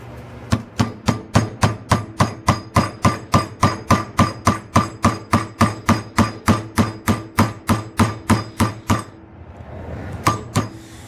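Steady, rapid hammer strikes on metal, working a piece on a ball peen hammer while making a gauntlet finger, ring out about three per second for nine seconds, pause briefly, then two more blows land.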